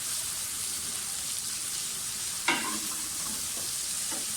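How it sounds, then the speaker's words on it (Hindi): Julienned green chilies frying in a pan, a steady soft sizzle with a couple of brief scraping stirs, close and fairly quiet. "थोड़ा सा फ्राई करें।"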